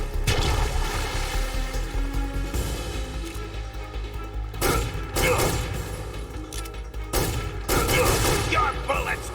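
Gunfire in Metal Gear Solid 3: Snake Eater, dense loud bursts of rapid shots with heavy thuds, pausing briefly then resuming in several volleys.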